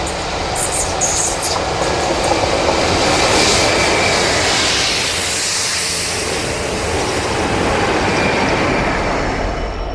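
A heavy British Rail Class 57 diesel locomotive train rumbles past with a loud, continuous roar and broad rushing noise that holds steady for the full duration.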